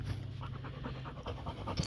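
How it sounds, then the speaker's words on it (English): A dog sits panting steadily outdoors at a big-dog kennel, a close, rhythmic run of quick breaths repeating through the whole moment with no talk over it. "She's sitting there panting."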